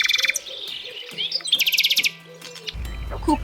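Nightingale singing alone, a quick run of bright chirps, whistled notes and trills in a lively phrase that rises and falls, close and clear.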